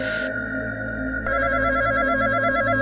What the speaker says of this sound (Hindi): घंटी की आवाज फोन से नहीं, शमशान के अंदर से आ रही है।